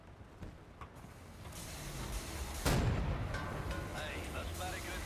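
Cannon fire in the shooter Wolfenstein: The New Order, a heavy boom cutting through steady battle rumble and mechanical clatter, with quieter crackles and distant blasts trailing after it.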